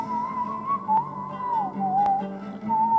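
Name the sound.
person whistling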